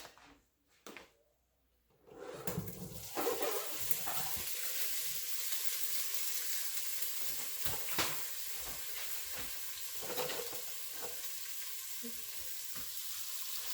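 Turkey wing pieces sizzling and frying steadily in a pot, a continuous close hiss with occasional stirring clatter, starting after a brief quiet moment.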